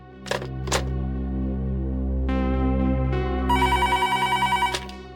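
A telephone rings in a police station office, a couple of short bell bursts followed by a longer electronic trilling ring that pulses rapidly, loud and close over steady background music.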